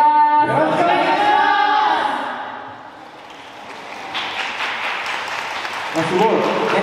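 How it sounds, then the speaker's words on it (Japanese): An audience claps at a free live concert held at an indoor fountain plaza in Sunshine City, with moderate applause building under a performer's talking and continuing mostly on its own. "めっちゃ大きい拍手、ありがとうございます"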